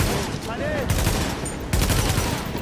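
Gunfire in the shooter game The Division, a burst of shots over dense game noise with a brief lull and a second loud burst near the end, no one speaking.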